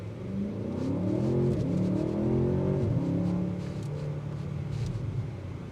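A 2025 Audi S8 sedan accelerates hard, its engine rising through the revs with audible gear shifts, a steady strong roar from inside the car.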